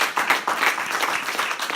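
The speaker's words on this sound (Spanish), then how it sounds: "Un aplauso al Mesías" Church congregation applauding at a Spanish-language worship service, a dense wash of many hands clapping that stays steady and fairly loud throughout.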